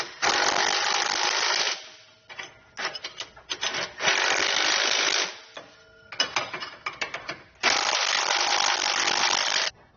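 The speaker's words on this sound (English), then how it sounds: "you can then come back with a 3/4 inch socket and wrench" A 3/4 inch socket wrench snugs down bolts while installing a Roadmaster Direct-Connect base plate kit. It gives three long, loud bursts of steady ratcheting, with shorter irregular clicks and rattles between them.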